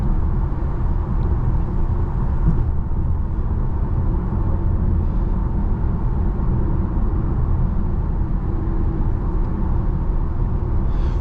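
Steady, close cabin rumble inside a Tesla Model Y Juniper cruising at about 70 mph on a choppy freeway. Road and tire noise form a constant low drone, and no one speaks.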